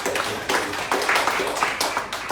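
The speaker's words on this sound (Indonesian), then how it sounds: "Kita beri tepuk tangan yang baik." At a church service, a congregation claps steadily and continuously, a dense patter of many hands filling the whole stretch at moderate volume.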